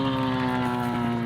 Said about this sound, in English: I hate loud motorcycles.